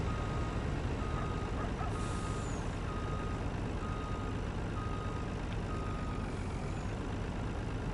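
A truck in Farming Simulator 19 backs up, its reversing alarm sounding as faint, regularly repeated beeps over a steady loud engine drone and background noise, with a brief hiss partway through.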